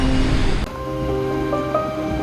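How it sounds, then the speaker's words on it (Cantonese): Big ocean waves crash with strong wind at Reynisfjara black sand beach in Iceland on a foggy, rainy day, a loud rushing surf that shifts abruptly partway through and carries on steadily. "嗰種 feel 都勁大浪、大風。"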